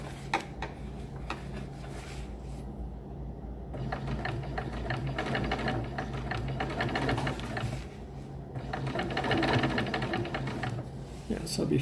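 A sewing machine stitching a down throw underquilt, whirring in steady rapid bursts with brief pauses between runs, while a person talks over it.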